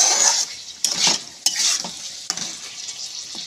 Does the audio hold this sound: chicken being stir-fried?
yes